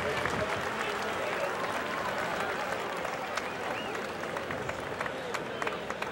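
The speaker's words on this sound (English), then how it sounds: "that was like a nice ovation from the crowd." Crowd at a boxing match breaks into sustained applause and cheering after a knockout, a dense, steady wash of clapping that holds loud throughout.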